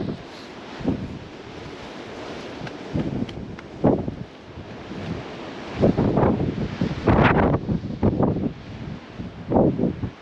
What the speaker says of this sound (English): it's really windy as well